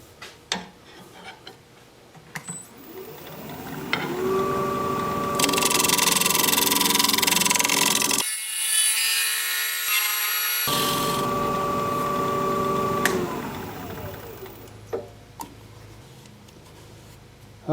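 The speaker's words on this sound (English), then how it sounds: "I think we're ready to scrape. Got a fresh edge on my scraper as well." A scraper is pressed against a live-edge plum wood bowl spinning on a woodturning lathe, producing a close, sustained hissing scrape over the steady motor hum, with a brief pause midway before scraping resumes.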